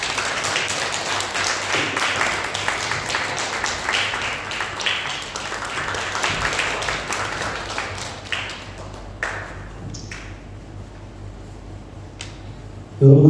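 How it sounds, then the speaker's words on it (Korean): A church congregation claps in welcome as the pastor comes forward, a fairly loud, sustained round of applause that thins out and fades over the last few seconds. "목사님 나오실 때 우리 축복의 박수로 환영하겠습니다"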